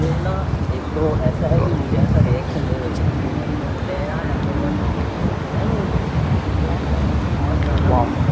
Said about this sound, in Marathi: खूप थंडगार एकदम हवा चालू आहे इथे